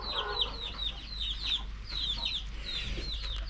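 Chickens roaming outdoors in a village cluck in a steady run of short calls, with a rooster-like cry rising now and then over a low constant hum.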